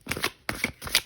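Tarot cards being shuffled by hand in three quick riffling bursts, crisp papery flutters close up and fairly quiet, with no talking.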